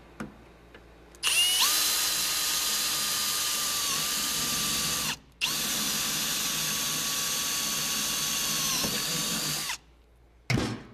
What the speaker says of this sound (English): now we're going to drill the last rivet